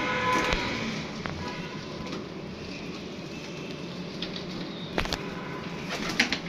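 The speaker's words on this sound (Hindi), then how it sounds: "माशाल्लाह बड़े अच्छे कबूतर हैं इनके" Pigeons kept as breeding pairs in a loft coo softly amid a steady wash of ambient noise, with a few brief sharp clicks or flutters scattered throughout.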